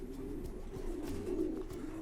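Kipp und Söhne breeding hens, pigeons kept for reproduction, coo in a low, steady rumble that continues throughout at moderate volume, with no voices over it.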